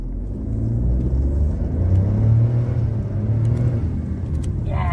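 A Daihatsu Rocky turbo car accelerating hard on a straight road during a test drive, a loud steady engine rumble and drone heard from inside the cabin.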